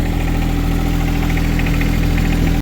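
A tractor engine idles close by in a steady, loud, throbbing drone with a rhythmic mechanical pulse, then cuts off abruptly at the end; no one talks.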